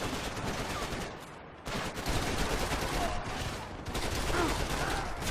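Dense, continuous gunfire from Max Payne 3 fills the scene, with fast bursts and rattling automatic fire, a brief lull midway before the shooting resumes loudly. A voice is faintly mixed underneath.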